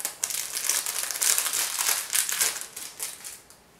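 Small plastic sachets holding a ring, crinkled by hand in a series of bright, rustling crackles that stay close and continuous with no talk.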